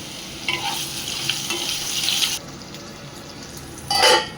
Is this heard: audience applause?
no